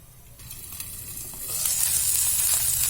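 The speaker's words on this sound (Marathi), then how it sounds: "आता पाच मिनटं आपण शालो फ्राय करून घेऊया" A breakfast item shallow frying in a pan on the gas; a soft steady sizzle that swells into a louder, brighter hiss partway through, close by with no talking.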